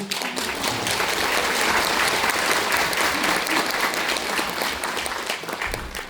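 A talk-concert audience gives sustained, dense applause, many hands clapping steadily and loudly throughout, with faint crowd murmur mixed in.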